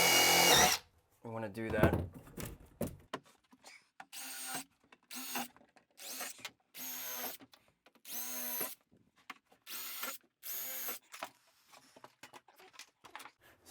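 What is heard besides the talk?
drilling pilot holes into a toilet flange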